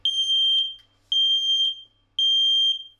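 Three loud, piercing electronic beeps from a household smoke detector, each about half a second long and spaced roughly a second apart, sounding alone with no talk.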